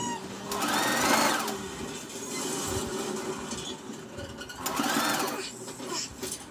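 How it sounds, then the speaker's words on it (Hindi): A sewing machine stitches a child's striped, double-layer ruffle top, running in a close, steady whir with a slight swell in speed, then picking up again after a brief pause. "इसलिए ध्यान से इसको स्टिच करें।"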